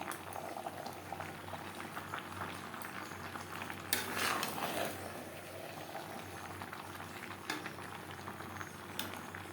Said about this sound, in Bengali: সবজির সাথে এঁচড়ো আলু বেশ ভালো করে মিক্সড করে দেবো